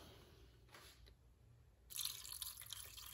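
Water poured into a cooking pot holding guava peels for homemade guava jam, with a faint drip first, then a steady, fairly close splashing pour in the second half.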